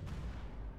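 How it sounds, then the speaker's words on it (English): A battleship blows up in the space strategy game Stellaris, a dense, rumbling low boom that holds steady for under a second with no distinct peak, fairly muted overall. "that was kind of an anticlimactic explosion"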